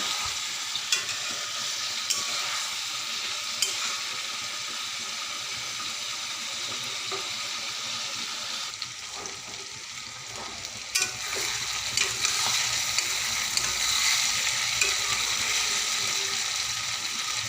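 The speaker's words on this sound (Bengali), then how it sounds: "মাংস এখন ভাজতে হবে।" Mutton sizzles steadily in a hot pan while it is stirred, giving a continuous close, dense frying hiss with occasional scraping clinks of the utensil and no voices.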